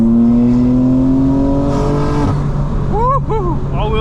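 A 2025 BMW M4 Competition engine revving up under acceleration at night, a loud rising drone with a voice briefly heard over it near the end.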